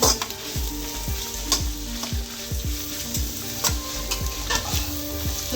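Mint and coriander sautéing in a pan for turkey biryani: loud close sizzling with repeated rhythmic scraping strokes of a spatula stirring the leaves, no talk.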